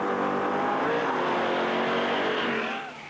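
Cars street racing in 1980s southwest Florida, one engine roaring loud and close as it accelerates hard in a sustained rising drone, fading slightly at the end.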